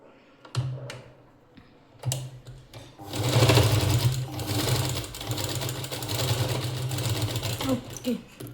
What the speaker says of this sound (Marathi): तर याच्यावर आपल्याला स्टिच मारून घ्यायची आहे.